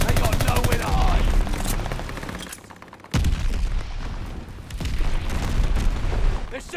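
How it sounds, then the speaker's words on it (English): Mortar shells bursting amid heavy gunfire in the World War II shooter Call of Duty Vanguard, with dense rattling automatic fire and deep booms continuing almost without pause, dipping briefly before a sharp loud blast. "They're sending mortar shells."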